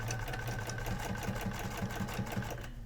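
A sewing machine stitches steadily while machine quilting a pillow, its fast even needle chatter running close and uninterrupted for the whole stretch.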